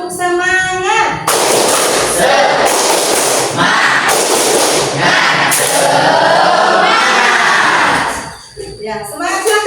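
Standing class performing a rhythmic clapping cheer, loud dense bursts of group claps and shouting voices mixed together, close and energetic, fading out near the end.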